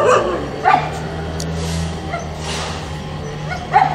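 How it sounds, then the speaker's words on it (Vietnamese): Rescued stray dogs bark outdoors on a chilly early morning, a few separate sharp yaps standing out over a steady low hum and background noise. "Chứ không mà nó sủa hoài thôi."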